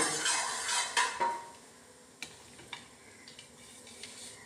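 Dry fruits tumble into hot ghee and get stirred, with a clatter of a spoon against the pan, a brief sizzle, then a few scattered metallic clinks, close and fairly quiet.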